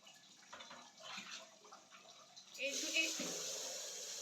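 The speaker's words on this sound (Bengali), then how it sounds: "আর দুইটা কল ছেড়ে দাও" Water gushes from household taps into a bucket, starting partway through as a steady, fairly close rush that drowns out the quieter sounds before it, with voices talking in the background.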